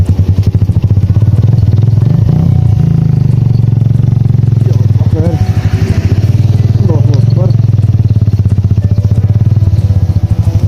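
Motorcycle riding on a snowy mountain road after heavy snowfall, a loud, close engine drone with pulsing exhaust throb throughout, while someone talks over it.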